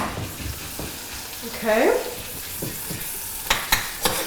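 Potato and butter bubbling and sizzling in a hot pan, a steady fry with occasional stirring clatter, while someone nearby speaks briefly and a dog barks faintly.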